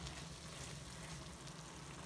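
Shredded beef tinga with onion and garlic frying in a pan, a steady close sizzle with faint crackling and no pauses.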